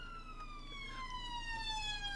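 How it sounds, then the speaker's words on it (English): A siren wails outside, its pitch sweeping steadily downward in a continuous tone through the whole stretch, muffled and in the background with no talking. "apologies if you can hear the siren outside"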